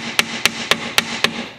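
Small brass hammer knocking on a stuck BMW folding mirror housing: five sharp, evenly spaced taps in quick succession, close-up and alone.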